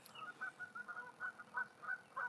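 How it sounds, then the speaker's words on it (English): Geese honking at a distance near a fishing spot, faint repeated calls in an irregular series of about eight short honks over quiet background. "listening to the geese"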